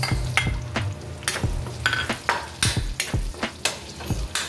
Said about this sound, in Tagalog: Ngayon naman, isasabay na natin igisa itong ating bawang. Isasabay na natin itong ating onions.